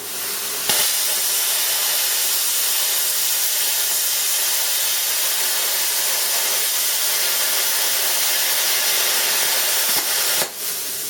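A plasma cutter runs steadily at close range, a loud continuous hissing roar that holds for about ten seconds between sharp starting and stopping clicks, with no talking over it.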